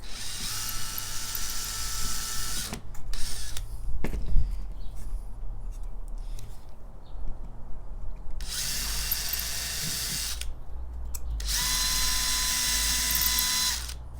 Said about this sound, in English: I'll use a drill to make the holes so then I don't split the wood